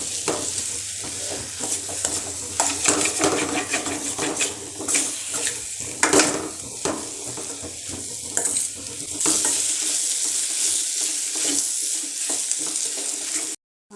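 Masala powder for chicken curry sautéing in a pan: steady sizzle with repeated scraping and stirring clatter of a spoon against the pot, close and continuous, no voices, ending abruptly.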